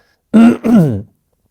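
A person clears their throat twice in close succession, a rough, voiced rasp up close with a short gap between the two bursts, then silence.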